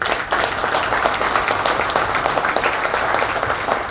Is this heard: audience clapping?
yes